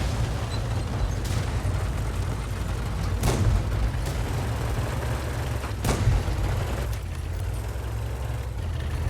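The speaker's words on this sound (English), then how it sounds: "we can see the enemy is actually firing at the BT2" Artillery fire in a tank video game as the enemy shoots at a BT-2 light tank, with a few sharp, loud cannon blasts cracking out over a constant dense engine and battle rumble.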